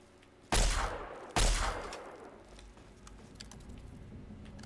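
Two loud gunshots from Fallout 3, about a second apart, each ringing out into a long decaying echo over quiet background.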